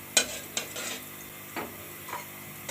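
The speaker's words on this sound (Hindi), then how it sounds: "घी को पहले गर्म होने देना है अच्छे से।" Ghee heats in a pan before kofta is cooked, with a soft steady sizzle and a few light clinks of a spoon against the pan.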